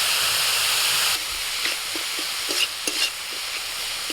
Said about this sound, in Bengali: আদা কাঁচা লঙ্কাটা একটু হালকা করে ভেজে নিয়ে দিয়ে দিচ্ছি মাশরুমগুলো